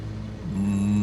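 Steady low drone of aircraft engines filling a plane cabin on final approach to an Antarctic runway, a constant hum that swells slightly louder partway through, with no talking.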